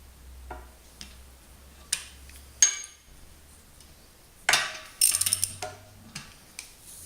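Quiet, scattered mechanical clicks and ticks as a ratchet turns a 19 mm socket while refitting a used air compressor, a few separate ticks followed by a quick burst of ratcheting clicks, with a low hum underneath.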